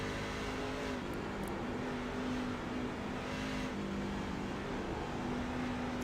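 Truck engine in a racing video game, a steady droning motor hum with a sustained tonal whine that rises slightly, held continuously at moderate level with no speech over it.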